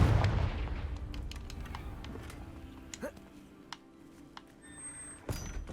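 A fire spell blasts in the Hogwarts Legacy video game in a basement: a deep boom at the start, followed by scattered sharp cracks and thuds and a brief high chime near the end, with a voice briefly speaking.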